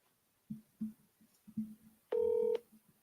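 Telephone keypad dialing tones, a series of short beeps followed by one longer tone, faint and isolated with no talking.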